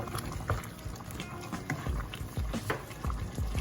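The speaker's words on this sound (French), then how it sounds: "Ça c'est le bouillon." Chicken broth for tchep simmers in a pot, a steady bubbling and watery churn with soft thumps and clinks of a utensil close by, no speech.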